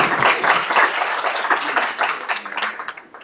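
Applause from a conference audience at an Erasmus green-themed event, a dense, steady patter of many hands clapping that thins and tapers toward the end.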